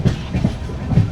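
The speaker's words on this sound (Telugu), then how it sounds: "చూడండి, అమృత్ భారత్ ఎక్స్ప్రెస్ ట్రైన్ అయితే ఉంది." An Amrit Bharat Express train running from New Jalpaiguri through West Bengal makes loud, close, rhythmic clickety-clack wheel thumps over the rails, a few regular beats in quick succession.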